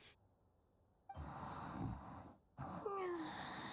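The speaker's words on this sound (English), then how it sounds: "Girl, you are way too small to be snoring this loud." Paimon, a small companion character in the video game Genshin Impact, snores in two breathy, snorting bursts after a near-silent start. The sound is quiet overall, with a faint squeaky tone near the end.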